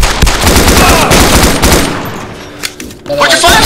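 Rapid automatic gunfire from an ArmA 2 combat mission, loud and close, bursting continuously before tapering into scattered shots and a brief pause.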